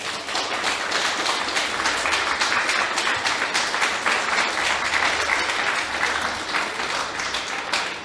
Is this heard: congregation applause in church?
yes